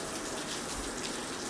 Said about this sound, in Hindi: अच्छी बारिश हो रही है भाई